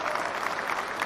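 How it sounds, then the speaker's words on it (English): Brief burst of studio audience applause during a morning radio trivia segment, fairly soft and even, lasting about a second. "give yourselves a round of applause"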